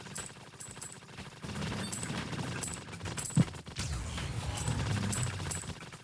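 Mech machine gun fire in Project Lazarus, a fairly quiet rapid rattle of bursts under game music and effects, with a sharp thump partway through.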